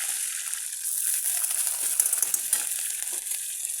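Chilli-garlic paste sizzles and fries steadily in hot oil with cumin, mustard seeds and curry leaves, a continuous close crackle with small spitting pops and occasional stirring scrapes, no voices.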